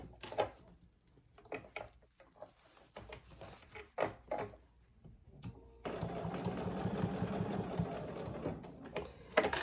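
A sewing machine stitches rows on a fabric oven mitt, first in short stop-start bursts with clicks between them, then running steadily for several seconds, close and fairly quiet.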